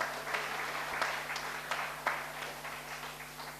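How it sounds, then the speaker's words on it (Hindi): An audience at a Hindi poetry recital applauds with sparse, uneven clapping that sounds thin and fairly distant, a low steady hum running beneath it. "तालियां कमजोर कर दी आप लोगों ने।"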